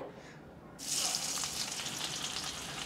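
Finely chopped onions, two medium ones, drop into leftover hot oil for Khandeshi mutton chutney, bursting into a sudden loud sizzle that keeps crackling steadily after a quiet start.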